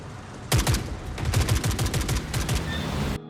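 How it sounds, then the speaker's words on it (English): Exchanges of gunfire between warring factions in a first-person shooter game, a dense run of rapid shots and short bursts at mid distance lasting about three seconds, with no talk. "gunfire between factions"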